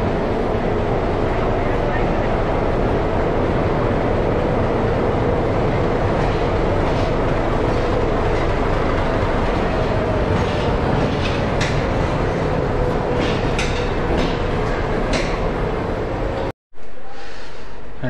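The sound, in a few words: Maharashtra Sampark Kranti Express train at Bandra Terminus platform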